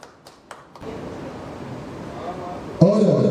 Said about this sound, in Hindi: आप लोग और जोरदार ताली बजा दीजिए मिस्टर वीर कुमार के लिए।